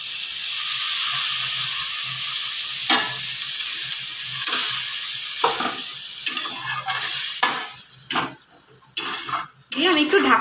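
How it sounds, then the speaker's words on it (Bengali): Water poured into prawns frying in oil for a prawn pulao makes a loud, continuous hiss and sizzle, broken toward the end by sharp pan and utensil knocks and stirring scrapes. "এবার মাছটাকে একটু সিদ্ধ হওয়ার জন্য অল্প জল দিচ্ছি।"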